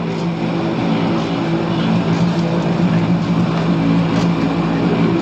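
An automatic mustard oil mill runs in a factory with a steady, loud mechanical drone and hum that holds constant throughout, with no talking over it.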